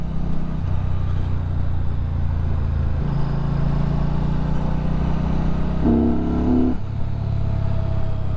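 A Benda motorcycle engine runs steadily at close range, its low throbbing idle rising briefly in pitch as the throttle is blipped, then settling back.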